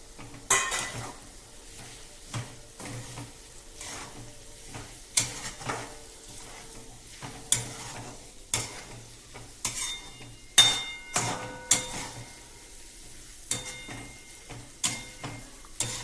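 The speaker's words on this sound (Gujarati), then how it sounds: "હવે ડુંગળી નાખીએ ગેસ ધીમો રાખવાનો" Onions fry over a low gas flame in a pan for aloo paratha. A spoon scrapes and stirs in repeated clattering strokes above a steady soft sizzle, close by.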